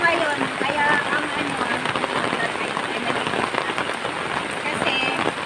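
Steady rain falls on surfaces outdoors, a loud, dense, continuous patter throughout.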